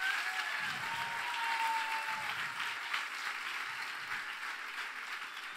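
An audience at a church service applauds, a sustained wash of many hands clapping at moderate distance that holds steady for several seconds.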